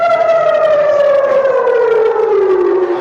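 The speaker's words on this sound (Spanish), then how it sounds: "ensordecedoras sirenas antiaéreas suenan de fondo" Air raid sirens wail loudly near the Israel-Gaza border, a steady rising-and-falling civil defense tone that fills the whole stretch and slowly slides downward in pitch, with faint background commotion beneath.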